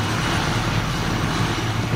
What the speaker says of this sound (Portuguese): Você vai subir no helicóptero entregando ela